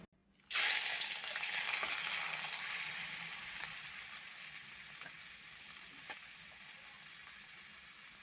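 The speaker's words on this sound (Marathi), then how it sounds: "कढईमध्ये तळणीचं आधीच तेल आहे त्यामध्ये आपण कांदा टाकून घेऊया" Chopped onion hits hot oil in a wok with a sudden loud sizzle, then settles into a steady, close frying hiss that slowly fades, with a few faint stirring clicks.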